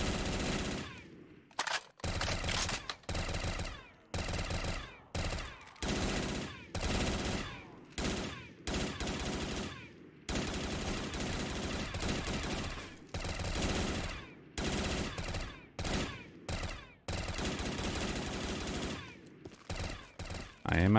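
Sustained bursts of LMG fire from the Syndicial Projector in a first-person shooter, loud and close, with rapid automatic rattling broken by short pauses across the stretch.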